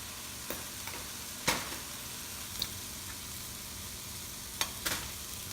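Two tablespoons of shrimp paste fry in a pan for fried rice, a soft continuous sizzle with a few sparse clacks of the spatula as it is mixed, fairly quiet and close.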